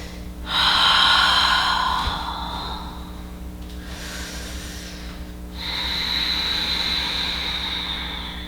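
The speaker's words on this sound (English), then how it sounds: "Nice deep breaths" Slow, deep breaths during a lower-body yoga flow, a long breathy inhale and exhale followed by another, close and clear over a faint steady hum.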